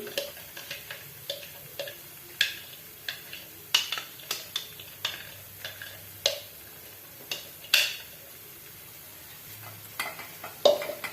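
A gravy with cashew paste being sautéed and stirred in a pan, repeated sharp scrapes and clinks of a spoon against the pan over a soft background sizzle, in irregular bursts.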